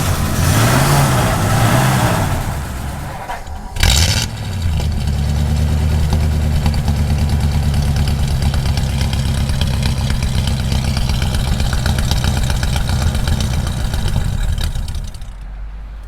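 A 1951 Ford F-1 pickup engine idles smoothly and steadily at close range, with a brief louder burst near the start before settling into an even, low rumble that runs almost to the end.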